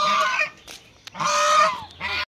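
A goose honks three times up close, loud nasal blasts separated by brief gaps, with no voices alongside.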